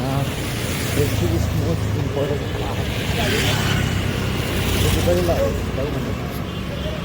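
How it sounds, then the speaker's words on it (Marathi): Road traffic runs steadily in the background behind someone talking close up, with a low continuous rumble of passing vehicles. "गाड्या मागं चालू आहे बहुतेक"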